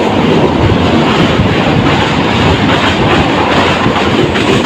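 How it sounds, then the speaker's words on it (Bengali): The Titas Commuter train rushes through Daulatkandi railway station at speed, a dense, loud, continuous roar of wheels and rattling coaches that holds steady throughout, with no speech. "দ্রুত গতিতে Titas commutator Daulatkandi rail station cross করে যাচ্ছে।"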